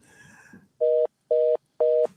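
A telephone line beeps three times in an even, steady rhythm, each tone about a quarter second long and clear and loud, after a faint stretch of line noise.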